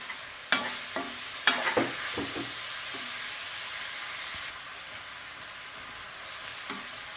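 Chicken chowmein mixture with onion and capsicum sizzles in a hot frying pan while a utensil scrapes and stirs it in a few sharp strokes over a steady hiss. No one speaks.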